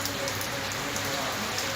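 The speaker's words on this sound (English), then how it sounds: "See the rain ease up now." Steady rain pours down, a constant dense hiss that never lets up, fairly close and even in loudness throughout.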